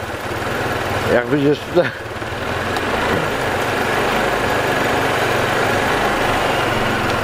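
A cross scooter engine fitted with a Chinese module runs steadily, held on the throttle at around 2000 to 3000 rpm, a continuous mid-low drone with a brief dip near the start and a person speaking briefly over it.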